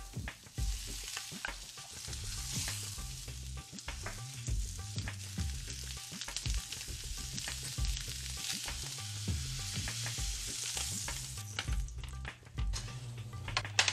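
Veal shank searing in butter in a pan for osso buco gives a loud, steady sizzle and frying crackle throughout, with occasional scraping and stirring noises and no voices.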